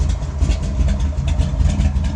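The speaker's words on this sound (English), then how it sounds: "You can see the shifter shaking just from the engine idling" A 1965 Dodge Coronet 500 with a 451-cubic-inch Wedge V8 idles up close with a deep, lumpy rumble that pulses steadily and never revs.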